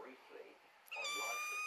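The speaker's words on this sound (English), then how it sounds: "you can hear the little kitty." A small cat gives a single clear, high meow near the end, close and fairly loud after a quieter stretch with a person's soft talk.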